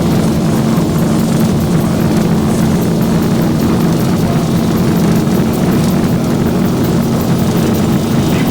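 An airliner's engines roar steadily during a takeoff roll in a flight simulator game, a loud continuous drone with a strong low hum held evenly from start to finish, with no voices over it.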